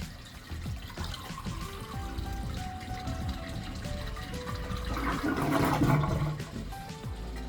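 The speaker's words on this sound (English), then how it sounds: "So we're gonna flush that, try to get all the water out of this tank that we can get out." A household toilet is flushed to empty its tank, a loud, close rush and gurgle of draining water that swells near the end, with no talking.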